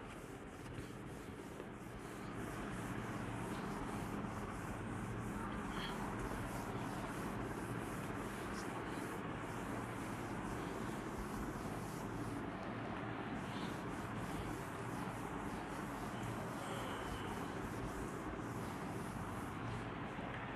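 Continuous dry rubbing of an eraser or duster wiping writing off a board in an accounts classroom, a steady close scrubbing texture that runs almost without pause after a brief quieter start.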